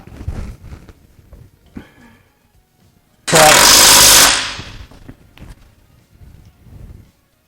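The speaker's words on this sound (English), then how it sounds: "I'm just going to put like 4 lug nuts on here and tighten it up" An impact wrench tightening wheel lug nuts on a 1949 Chevy, one loud continuous rattling burst of about a second, surrounded by quieter handling noises and clanks.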